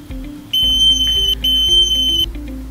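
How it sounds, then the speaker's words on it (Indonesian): A simple flame sensor circuit built around an infrared photodiode drives a buzzer that sounds a loud, piercing electronic tone in two long bursts separated by a short gap, over a low background hum. "maka buzzer akan berbunyi sangat nyaring"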